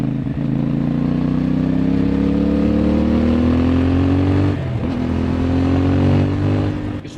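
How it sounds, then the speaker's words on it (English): A 2024 CFMOTO 450MT (IBEX 450MT) on stock exhaust drones loudly and close while riding, its engine note climbing steadily through the revs, then easing briefly with a gear change before pulling on. "You should also be able to hear the engine sound from this video"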